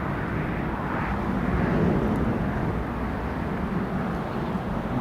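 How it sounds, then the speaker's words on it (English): Jet2 Airbus A321 on a training flight taxiing for departure at Newcastle Airport, heard as a steady, moderately distant jet engine rumble that holds constant throughout with no voices. "We've got this Jet2 A321 training flight that's just taxiing for departure now."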